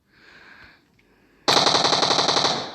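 Rapid automatic gunfire in the mobile battle royale game PUBG Mobile, a loud continuous burst that starts abruptly midway after a quieter stretch of faint game sound.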